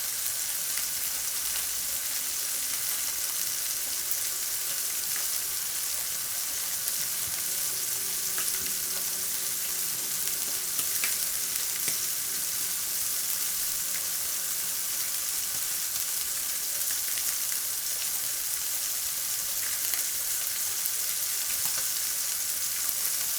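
Beef burger patties, one with beef black pudding, sizzle and fry steadily in a pan with a constant bright crackle, close and alone without talk.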